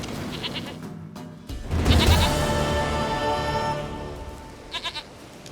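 Goat bleating in The Witcher 3, a wavering, nasal bleat that swells in the middle and fades, followed by a couple of short bleats near the end, close and alone.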